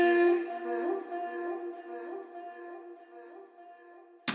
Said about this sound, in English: I thought it would be fun to throw a long delay on it